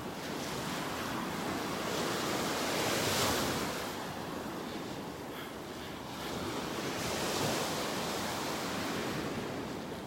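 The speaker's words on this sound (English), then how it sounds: "Here I am bringing you along on my beach walk in North Naples, Florida." Ocean surf rolls steadily along the beach in North Naples, Florida, a broad continuous wash of breaking waves swelling and easing, with wind buffeting the microphone and no voices.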